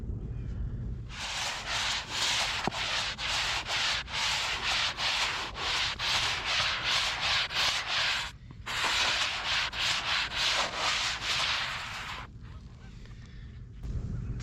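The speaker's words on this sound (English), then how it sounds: "just doing a light sponge over top is going to darken the top rock" Sponge rubbing back and forth over carved petroglyph rock on the Lower Susquehanna River, a close, steady scratchy rasp in quick strokes, pausing briefly midway before stopping near the end.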